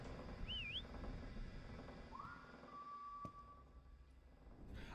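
In the indie horror game Lazaret, set aboard an abandoned ship, the player character whistles: a short wavering whistle, then a longer rising note that holds steady, over a low rumbling ambient background.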